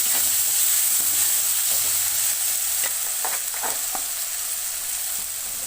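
Chicken pieces sizzle steadily as they fry in masala for mint chicken, a continuous bright hiss with a few soft stirring scrapes, close and fairly loud, with no voices.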